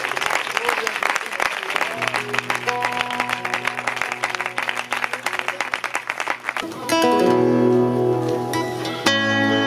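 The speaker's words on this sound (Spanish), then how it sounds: "Pueden darle un fuerte aplauso al Señor, por favor." Congregation applause in a church in Pego, a burst of clapping filling the first half of the clip that gives way to music with sustained tones, with no speech over it.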